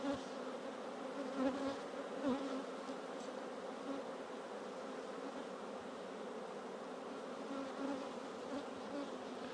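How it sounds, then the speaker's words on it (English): Honeybees buzz steadily around a nuc hive during a hive inspection, a dense continuous drone of many wings close by, with a few louder passes as individual bees fly near. "the nuke underneath has got a nice load of bees in it"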